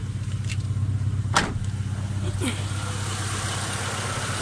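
A Mitsubishi Lancer engine idling steadily, a close, even low hum with a couple of brief clicks over it, no voices.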